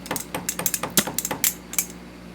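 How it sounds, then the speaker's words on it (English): Hammer flattens a bent steel washer on a KLR650 motorcycle sprocket, a close, rapid, uneven series of about fifteen sharp metallic taps and clinks, some harder than others, with no talking. "So I have to flatten out the bent washer."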